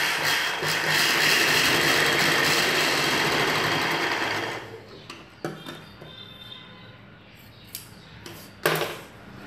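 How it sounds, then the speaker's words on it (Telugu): A sewing machine stitches a blouse, running in a steady loud whir for about four and a half seconds, then stopping and leaving scattered soft clicks and handling knocks. "పై వైపున ఇంకొక కుట్టు వేసుకోవాలి."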